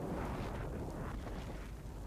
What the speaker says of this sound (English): Let's see that fireball explosion.